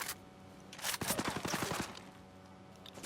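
A sharp, rapid burst of automatic gunfire in Ghost Recon Breakpoint, about a dozen quick cracks fired in under a second, with quieter scattered noise before and after.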